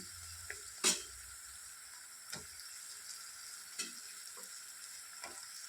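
Pieces of bottle gourd stirred in a pan for a Telangana gourd stew, with a steady soft sizzle under a few sharp spatula clinks and scrapes, one louder knock early on, no talking.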